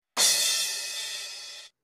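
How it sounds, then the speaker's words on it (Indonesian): A single bright crash cymbal strike that shimmers and washes out for over a second before cutting off. "Kemudian ketuk crash."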